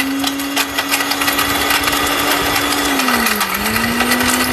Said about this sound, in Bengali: এই চলতেছে না ব্লেন্ডারটা